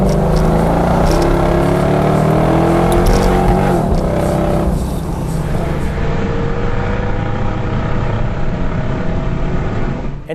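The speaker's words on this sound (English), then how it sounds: "this V8 has a very throaty and muscular sound, while in the high revs, it still has that original AMG sound." A Mercedes SL55 AMG V8 with a muffler delete sounds loud and throaty close by, climbing through revs in a roaring acceleration, then settling into a lower, steady rumble.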